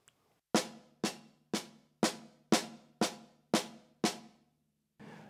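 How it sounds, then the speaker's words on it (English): Eight evenly spaced, crisp stick strokes on a drum practice pad play an inverted paradiddle sticking pattern, each hit sharp and decaying quickly, followed by a pause and one softer final hit; no talking. "it's just an inverted paradiddle"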